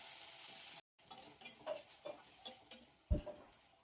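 Green capsicum chillies sizzle and are stirred in a hot pan, with soft scraping strokes of a spatula and a brief clatter against the metal, close and fairly quiet.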